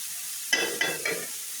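Potatoes and pointed gourd fry in a pan as their water cooks off, giving three short bursts of sizzling as the vegetables are stirred, close and fairly quiet.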